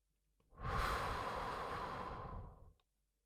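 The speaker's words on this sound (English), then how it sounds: "and another breath out." A single long, deep exhale during a guided meditation, a close, soft breathy rush lasting about two seconds before fading into silence.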